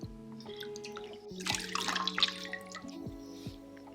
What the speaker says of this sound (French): Et voilà, maintenant je rince.